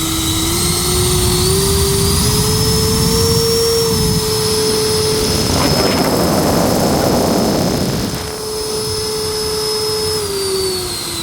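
A large 80 mm-class RC Skyhawk model jet's turbine engine whines steadily with a loud high-pitched tone, then throttles up into a broad roaring rush with afterburner for a few seconds before easing back to its idle whine.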